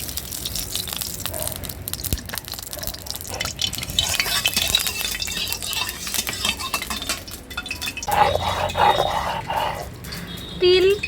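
Oil goes into a hot kadai for cooking pabda fish, giving a soft sizzle and fry amid clinks and scrapes of utensils against the pan, heard close, with brief voice-like sounds in the background.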